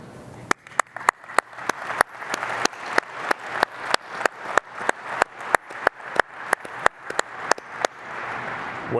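A keynote audience at a Las Vegas tech conference claps in sustained applause, a dense wash of hands with sharp near claps punching through steadily throughout.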